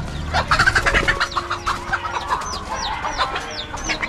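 A red junglefowl hen clucks softly and repeatedly beside her newly hatched chicks, whose thin, high peeps rise over the low, close-by clucking in a quiet setting.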